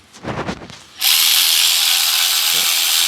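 A power tool, likely an impact gun, runs on the bolts of a crash-repaired Holden VX Calais, a loud continuous whirring burst that follows brief speech.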